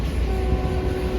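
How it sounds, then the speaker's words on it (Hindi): A GU40 locomotive on a Pakistan Railways express between Faisalabad and Lahore sounds a steady, sustained horn tone over the low rumble of the moving train, in light rain. "GU40 horn"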